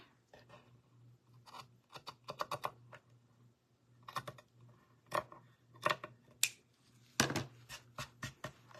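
Scissors snip paper for a craft project in short, quick bursts of crisp cuts, close and fairly quiet, with brief pauses between runs and no speech.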